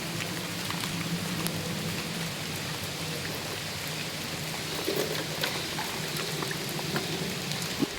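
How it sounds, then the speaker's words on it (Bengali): Rain pours steadily outdoors near a boat on the water, a constant dense patter at moderate level with no one speaking. "বৃষ্টি চালু হয়ে গেছে"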